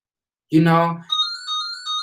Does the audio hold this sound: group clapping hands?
no